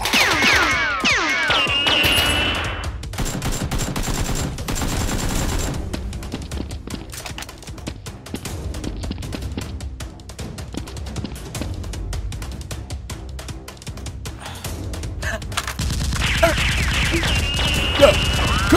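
Nerf blasters fire in a staged SWAT-style mock battle: a steady, dense clatter of rapid shots runs almost the whole time, with people shouting over it.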